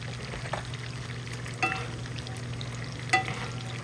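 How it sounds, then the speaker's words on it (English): Steaks fry in butter in a large cast iron skillet, giving a steady sizzle with a low hum underneath and a few brief scrapes or clanks as the meat is moved around, with no talking. "These steaks are going to be so good as they cook in the amazing bath of butter."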